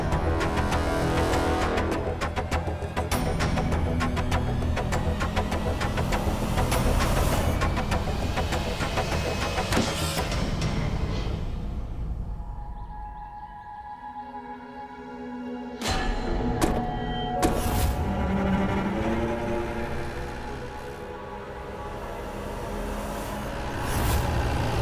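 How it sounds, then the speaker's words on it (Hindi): A vehicle engine starts and runs with a loud, rough mechanical rumble and hiss, briefly dropping to near quiet midway before surging back up. "गाड़ी स्टार्ट होने की आवाज सुनी"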